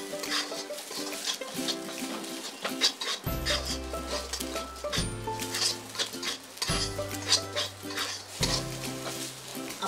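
Grated coconut masala sautéed in a pan, a steady close sizzle broken by repeated scraping stirs of a spoon against the metal, with occasional clinks of utensil on pan and no voices.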